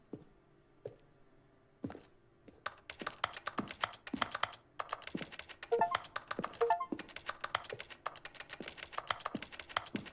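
Rapid clattering keystrokes on a computer keyboard during a never-ending game, close and fairly loud, with bursts of fast typing and brief pauses, no talking.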